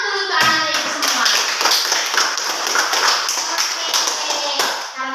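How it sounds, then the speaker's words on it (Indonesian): Classroom children clap their hands together in steady, lively applause that lasts throughout, close and fairly loud, with some voices mixed in. "tepuk tangan dulu untuk anak-anak ibu semua"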